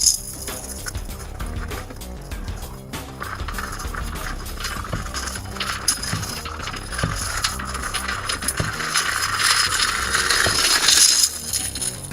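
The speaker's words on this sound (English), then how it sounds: "apologies for the desk vacuum sound that may be about to happen" A small desk vacuum whirs and builds to a louder hiss as it sucks up a pile of plastic model-kit trash on a hobby desk. Rattling and clicking bits accompany it throughout, near and continuous with no talking.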